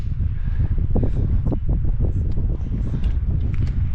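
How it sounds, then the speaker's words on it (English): Steady, loud wind buffets the microphone on the summit of Mount Cardigan, New Hampshire, in a continuous low roar, with faint rustling and no voices. "It's very windy up here."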